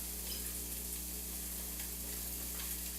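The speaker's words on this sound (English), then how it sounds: "First thing we're adding to the hot oil is the shallots." Shallots sizzle in hot oil in a pan, a steady dense crackling hiss with a low hum underneath, constant and unbroken for a few seconds, without any talking.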